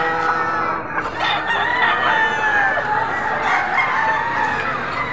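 A rooster crows at a chicken market in Padre Garcia, Batangas, a loud, drawn-out call with other fowl clucking nearby and people talking in the background.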